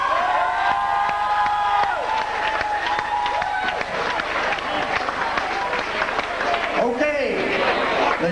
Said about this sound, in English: Let's give it a round of applause, please.